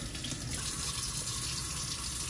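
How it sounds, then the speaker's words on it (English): A tap runs steadily to rinse a plump female Chinese crocodile lizard, a constant soft gush of water into a container with no talking. "So we'll gently turn the water up for her and try to rinse her off"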